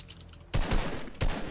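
Gunfire in Fortnite, two loud close bursts of shots, the first lasting about half a second and the second starting just after, with a faint rattle beforehand.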